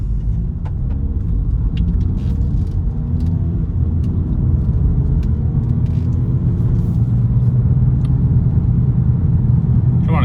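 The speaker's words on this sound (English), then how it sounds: "Want to give it the full beans just because the timing belt's a little suspicious and this oil's pretty old" 2014 VW Passat TDI diesel pulling hard from inside the cabin, a loud steady rumble of engine and road noise that builds gradually, with a few faint clicks over it.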